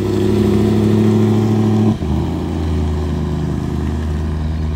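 BMW M3 engine runs steadily with a loud, close droning tone, its pitch dropping abruptly partway through as the revs settle into a lower hum. No one speaks.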